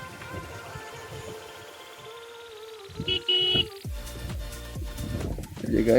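Birds call in the open around a small roadside temple by a wetland, a few cooing and chirping notes mixed with a distant horn and other background noise, with people talking at moments.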